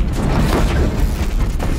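An explosion in the video game Horizon Zero Dawn, a loud low rumbling boom that fills the whole moment, with a dense crackling roar decaying across it and no talk.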